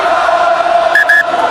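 A rugby stadium crowd in Ireland's Energy Park singing La Marseillaise during an Ireland versus France match, a sustained massed chorus with echoing sung notes, distant but full, under no clear talk.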